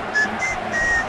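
Crowd whistling in the FIFA 15 soccer video game: a few thin, high whistle tones, one short, one brief, then a longer held one, faint over a soft background hum.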